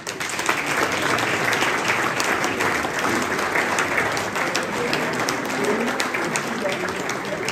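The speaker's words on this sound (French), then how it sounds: "je voudrais vraiment qu'il se lève et que vous l'applaudissiez" Sustained audience applause for an editor-in-chief at a gathering of journalists, steady dense clapping throughout with faint voices mixed in.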